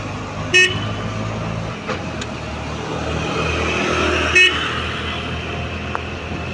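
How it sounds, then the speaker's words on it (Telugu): Road traffic near Krishna Barrage in Vijayawada rumbles steadily while car horns give two short, sharp toots a few seconds apart, fairly close, with no talking. "ఇది ట్రాఫిక్ ఏం నార్మల్గా ఏం లేదు"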